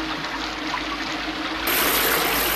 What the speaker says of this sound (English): the first thing a pusher does in a raid is flush the drugs down the toilet